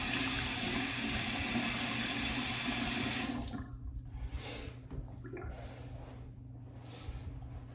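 Water running from a tap after a shave, a strong steady rush that stops partway through, followed by quieter splashing and dripping as someone rinses off.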